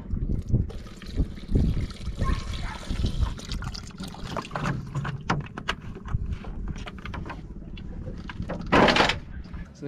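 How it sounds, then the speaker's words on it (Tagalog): Water poured into a cooking pot over an outdoor wood fire at a mangrove kayak-fishing camp, a trickling, splashing pour mixed with clatter and handling noise, with speech at times. "lagyan na natin ng tubig"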